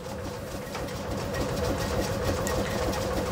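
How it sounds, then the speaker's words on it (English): Dyna start electric starter motor cranking a vintage car engine, a steady whirring, rhythmic mechanical drone that rises slightly and holds, close and even throughout, with no voices. "So it's a Dyna start, it's an electric motor."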